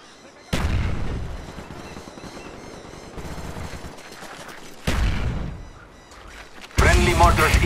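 Friendly mortar fire in Call of Duty Black Ops team deathmatch: several sharp, heavy blasts arrive in separate bursts with gunfire rattling between them, close and loud, and game voices chatter underneath.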